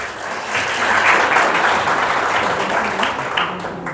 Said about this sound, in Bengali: ওনাদের জন্য একটা বড় করে হাততালি।